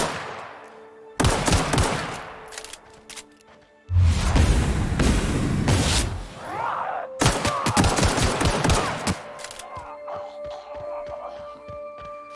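Bursts of automatic gunfire in The Outer Worlds video game, loud and sustained across several volleys with short gaps between them, plus a deep boom near the middle.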